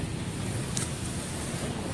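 Sea waves and wind along the Manila Bay shoreline, a steady broadband wash of surf and gusting air close to the microphone, continuous and unbroken with no voices.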